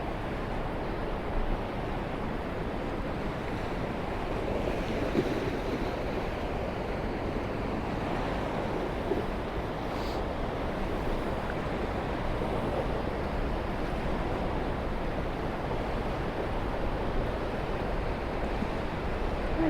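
Sea waves wash steadily along the Blackpool shoreline on a misty, windless morning near high tide, a continuous broadband surf roar with no voices.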